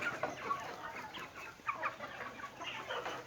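Breeding rooster and hen, farm chickens, give soft repeated clucks and short calls, close by and fairly quiet, with no one talking.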